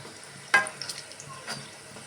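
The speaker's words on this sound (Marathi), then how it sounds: "हे बघा अशा प्रकारे तळून घेतलेत आपण सगळे मोमोज" Vegetable momos shallow frying in a little oil: a soft, faint sizzle with two brief crackling bursts over a quiet background, short and close.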